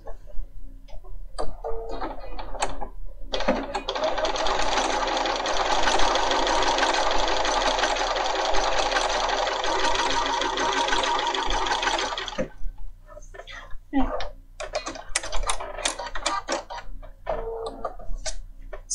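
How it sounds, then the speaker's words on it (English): A Bernina 500 series sewing machine runs a continuous stitching burst for about nine seconds with its tension set to -4, a close, even mechanical whir bracketed by small clicks and taps before and after. "Let's go to a -4 and see how that stitches."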